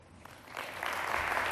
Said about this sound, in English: Can we have another round of applause for Tim Ensor, please?